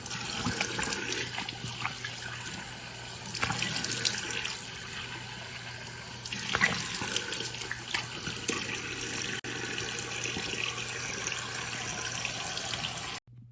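Water runs steadily from a bathroom tap while someone washes their face, a close continuous splashing stream with occasional louder splashes that cuts off abruptly at the end.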